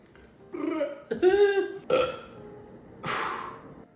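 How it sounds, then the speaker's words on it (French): Several small burps come one after another, four short throaty belches with brief gaps, close and fairly quiet in a calm room. "c'est des petits rots français, ça."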